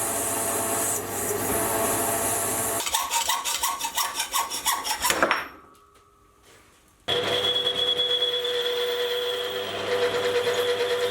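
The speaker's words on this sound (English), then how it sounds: "I'll then get it parted and sawn off" Harsh rhythmic rasping of a saw cutting off metal stock, strokes speeding up, then a short pause before a steady grinding cut resumes loudly.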